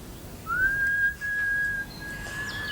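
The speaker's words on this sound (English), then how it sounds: "do stop whistling. How can you?" A single sustained whistle, one steady high tone held for about two seconds after a quick upward slide, clear and fairly close with no talking.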